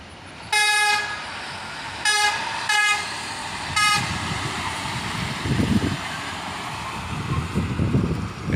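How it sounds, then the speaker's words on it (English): A rail work truck running on Norfolk Southern track sounds its horn in a loud, tonal honk followed by several shorter blasts, then its engine rumbles on as it passes nearby. "we get a horn show from the driver, and this truck's even carrying a piece of rail"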